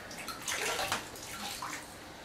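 A sponge soaks up water from a toilet tank during a fill valve replacement, making soft close sloshing and trickling water sounds over a couple of seconds.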